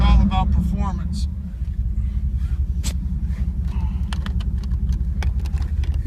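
A 1994 Pontiac Firebird Trans Am engine idles with a steady low rumble close by, while light clicks and taps sound over it and a voice speaks briefly at the start.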